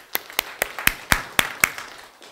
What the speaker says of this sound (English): One applause.